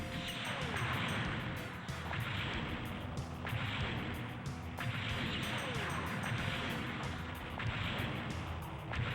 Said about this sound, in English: I like how they have really huge explosions for all the enemies dying